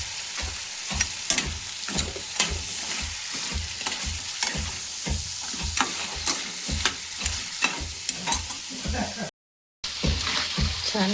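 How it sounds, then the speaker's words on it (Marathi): Onion-free masala sizzling in hot oil with spices in a Maharashtrian village kitchen, spatula scraping and stirring in a steady rhythm, close and moderately loud, with a brief dropout near the end. "छान परतून घेते तेलामध्ये, मस्त मसाल्यामध्ये."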